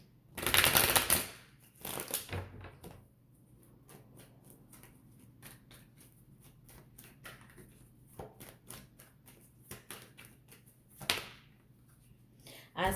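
A tarot card deck is shuffled and cut, with a loud riffle burst at the start, then a long run of soft card flicks and taps against a low steady hum.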